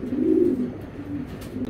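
Racing pigeons, including an Iraqi racer cock, coo in low, throaty rolling phrases at a loft, the cooing close and steady with a stronger burst early on and softer repeats after.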